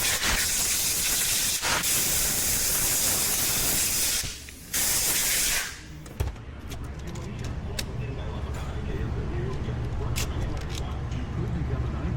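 Compressed air blasts loudly from a tie gun onto a Husqvarna 525L trimmer carburetor, a close, steady spraying hiss with a short pause and a second burst, then a quieter hissing tail as the air cuts off.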